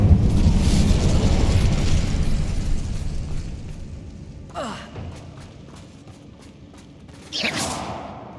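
A fire spell cast in the video game Hogwarts Legacy: a steady roaring, crackling rush of flame with two sharper whooshing bursts near the end, loud and close, with no talking.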